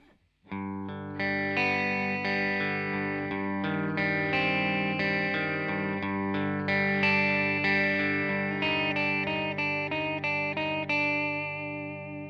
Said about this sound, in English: the first bit of guitar that we hear in the verse sounds like this